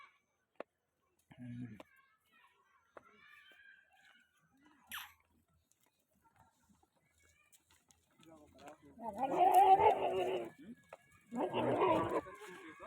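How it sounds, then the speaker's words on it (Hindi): A goat near a wheat field bleats in two loud, wavering calls near the end, after a long stretch of near silence broken by a few faint thumps and clicks. "ये बकरे की आवाज़ है, तुम समझ सकते कैसी आवाज़ है बकरे की।"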